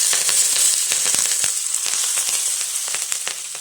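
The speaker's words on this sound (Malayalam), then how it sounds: "നമുക്ക് കുറച്ച് കറിവേപ്പിലയും കൂടി ഇട്ട് കൊടുക്കാം." Curry leaves hit hot oil with roasted urad dal and rice in the pan, a loud, crackling sizzle full of sharp spattering pops, close and steady with no speech.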